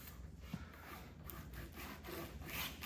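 Scrap wood rubbed by hand inside the grooves of a foam insulation board for a beehive, a continuous close scraping rasp that swells and fades with each stroke, quiet and alone.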